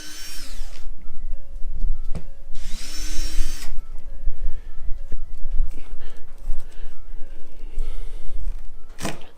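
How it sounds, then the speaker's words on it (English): Power screwdriver or drill backing out two Phillips head screws from an RV backup camera mount, in short whirring bursts with pauses and handling clatter between them, fairly loud and close. "Going to remove two Phillips head screws."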